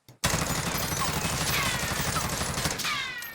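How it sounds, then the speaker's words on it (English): An XM4 rifle fitted with a muzzle brake fires one continuous fast automatic burst in the Warzone game, loud and close for about two and a half seconds before cutting off into a short tail. "So here we are with the muzzle brake attachment."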